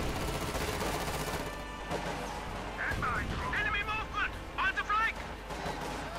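Dense bursts of battle gunfire from Soviet troops armed with DP machine guns in the strategy game Company of Heroes 2, rattling continuously under game audio, with a voice talking over it.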